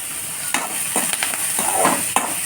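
Onions frying in oil in a pan while a potato fry is being cooked, a steady close sizzle broken by several short stirring scrapes and clinks of a spoon against the pan.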